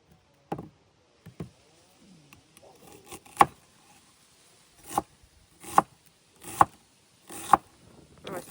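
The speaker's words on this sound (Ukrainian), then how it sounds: "Беремо, дивіться, ось таких 5 великих цибулин, та будемо також їх нарізати." A knife chops large onions into coarse pieces on a board, a handful of sharp, separate thuds at irregular intervals in a quiet kitchen, with faint rustling in between.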